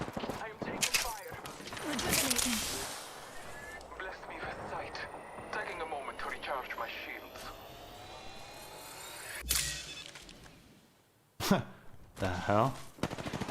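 Automatic and rapid gunfire in the Apex Legends video game, dense bursts of shots throughout with game effects and a brief pause, while a voice speaks over it.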